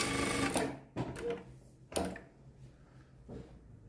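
A Prosew PS-1987A sewing machine stitching a bar tack, three stitches forward and three back repeated four times: short bursts of rapid mechanical needle clatter separated by brief pauses, close and moderately loud.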